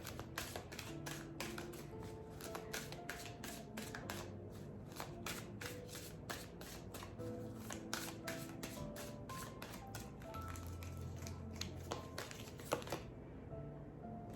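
Tarot cards are shuffled by hand in a long, quiet run of rapid riffling flicks and taps, steady and close, with no talking.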